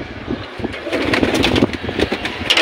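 A male pigeon in its cage coos up close amid rustling and noisy background, a dense, continuous throaty murmur with no voices.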